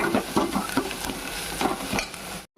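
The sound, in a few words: ginger garlic paste frying in pan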